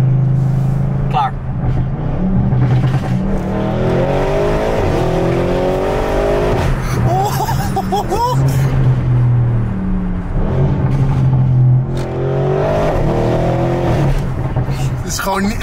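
Audi RS7 tuned to 840 hp accelerating hard, a loud sustained engine roar with rising revs running through the whole stretch, close and dominant while people talk over it.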